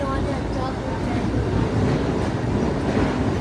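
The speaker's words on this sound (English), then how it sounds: "Another high-speed train, that's right." A high-speed double-decker train rushes past in a steady, loud roar of wheels and rail noise that fills the whole short stretch without pause.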